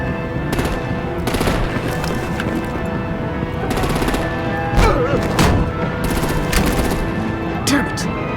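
Artillery and automatic gunfire in Batman: The Telltale Series, with loud bursts of rapid shots and heavy thuds coming in clusters over a constant roar of engines and action.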